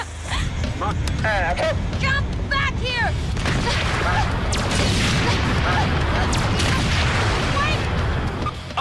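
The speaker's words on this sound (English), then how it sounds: "Okay, explosions look cool, but they are actually very hot." Explosion effects on a Power Rangers RPM set burst out amid loud whooshing and crackling bangs, overlapping with excited cartoonish voice effects and chatter through the dense, noisy stretch.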